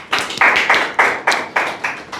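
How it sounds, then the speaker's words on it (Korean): A small audience claps during a public insurance benefits lecture, about seven sharp, evenly spaced claps standing out, close and fairly loud, with no talking. "박수 한번 주세요."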